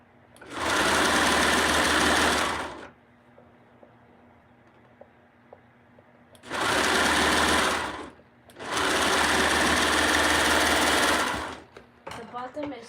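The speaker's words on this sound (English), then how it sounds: "I'm trying to sew the inside seam now." A sewing machine stitches the inside seam of a cotton pajama set in loud, close bursts of fast whirring: one run of about three seconds, a pause with quiet room tone and small clicks, then two more long runs.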